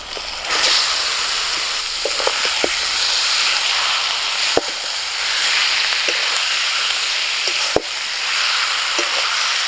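Chicken spare parts hit hot oil and fried spices, setting off a loud, continuous sizzle close by, punctuated by a few sharp utensil knocks against the pan.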